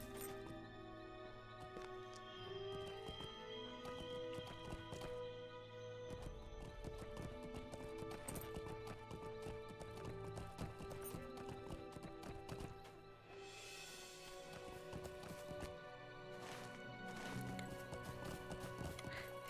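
Horse hooves clip-clopping at a run in a video game, a steady rapid rhythm with an occasional whinny, heard over a continuous layer of background game music.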